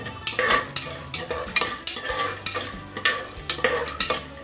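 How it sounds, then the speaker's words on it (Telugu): Almonds frying in a pan, a spoon scraping and stirring in quick repeated strokes with a soft sizzle beneath, close and fairly loud, with no talk. "బాదం పప్పు వేసి వేయించుకుందామండి"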